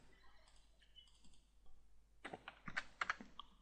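Typing numbers on a computer keyboard while drawing a 420 by 390 millimeter rectangle in design software: a short cluster of close, sharp key clicks in an irregular quick rhythm after a faint quiet stretch.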